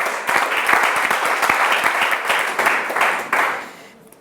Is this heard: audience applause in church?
yes